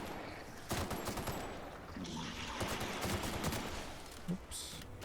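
Bursts of automatic gunfire in the sci-fi shooter The Outer Worlds, rattling volleys spread across the whole stretch with a few sharper single cracks, fairly loud against game background noise.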